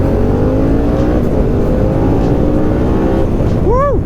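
A Harley-Davidson Pan America motorcycle in sport mode accelerates hard off-road at Sturgis, its engine note climbing in pitch under loud, buffeting wind noise, with a whooping voice at the end.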